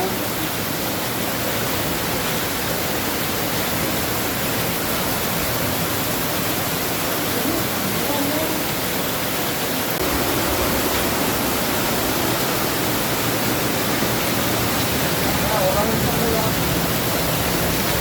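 Floodwater rushing after heavy rain near the collapsed boundary wall of Kannur airport, a loud, continuous broadband roar with no letup, close by, while people speak over it.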